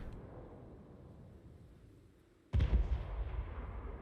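Artillery and guns open fire in a fantasy battle in the game Total War: Warhammer, a sudden loud burst after a quiet stretch followed by continued rumbling gunfire.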